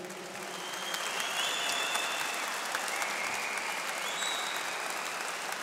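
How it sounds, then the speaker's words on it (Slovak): A large arena crowd at a Chemkostav Arena MMA event applauds steadily and loudly for nearly six seconds, a dense wash of clapping with a few faint whistles rising over it. "V každom prípade vás tu všetkých v Chemkostav aréne poprosím o veľký potlesk."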